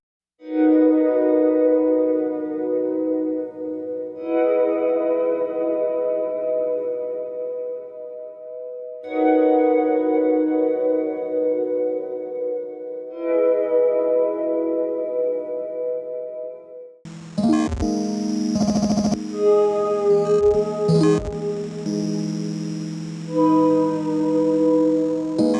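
An Onset guitar effects pedal shapes a series of swelling guitar chords, each fading in softly and ringing out. A reverb pedal added after it then turns the playing into a dense, washy wash of sound with sharp percussive hits.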